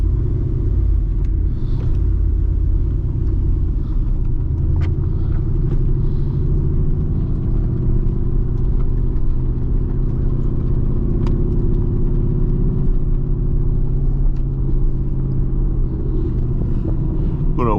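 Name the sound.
Mercedes-AMG GT R car driving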